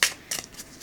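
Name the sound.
overhand shuffling a small oracle card deck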